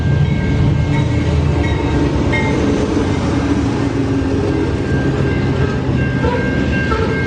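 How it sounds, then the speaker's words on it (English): A train rumbles steadily past close by in Fargo, North Dakota, a continuous heavy roar of wheels and rail noise with faint high squeals, no voices. "we got some excitement. A train."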